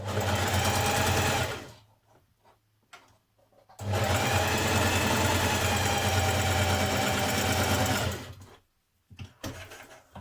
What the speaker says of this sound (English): you're just going to sew along here your dart to your chalk mark, run off the end.